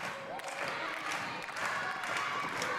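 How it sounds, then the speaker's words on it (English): Clapping and crowd noise fill a wrestling arena at a distance, a steady wash of applause with a commentator's voice faint underneath. "They might be clapping up for Paul Verk, though"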